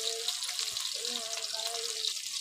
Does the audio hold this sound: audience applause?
no